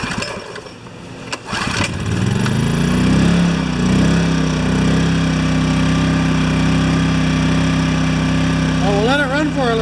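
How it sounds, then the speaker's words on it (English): A Yamaha generator with freshly reamed carburetor jets starts after a few clicks, then settles into a loud, steady idle that stays close and even to the end. "I reamed out the jets to see if it'll stop surging on idle."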